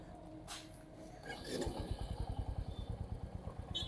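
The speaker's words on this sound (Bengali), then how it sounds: "but it's time to ride the meteor 350, যেটা আমরা নিয়ে এসেছি" A Royal Enfield Meteor 350 motorcycle engine is heard close by. It catches and then settles into a steady, rhythmic thumping idle, with a faint rustle of wind early on.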